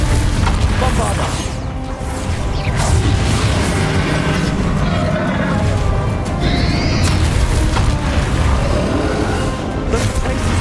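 The Bombarda blasting spell goes off in Hogwarts Legacy during a dragon fight. A dense, loud rumble of booms and crashing impacts fills the scene continuously, with game voices mixed in.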